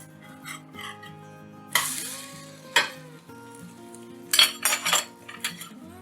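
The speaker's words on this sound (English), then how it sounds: "Then use a spatula to flip the crepe on the pan." A spatula scrapes and clatters on a pan as a crepe is flipped, giving a few loud, close metallic scrapes over a soft sizzle, with music playing underneath.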